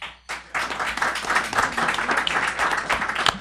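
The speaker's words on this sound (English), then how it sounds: "So let's do round of applause." Audience applause at a town discussion event on village parking, a brief pause and then a full burst of many hands clapping, steady and moderately loud to the end.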